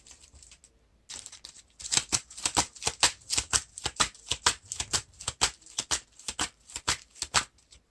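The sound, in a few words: shuffling a card back into the deck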